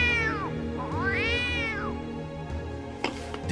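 A cat meows close by, two drawn-out, rising and falling cries in quick succession, followed by a quieter stretch with a couple of faint thuds.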